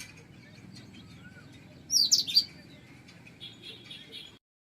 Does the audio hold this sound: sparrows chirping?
yes